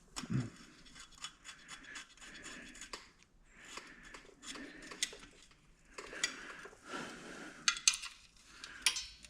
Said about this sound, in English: I just dropped my washer.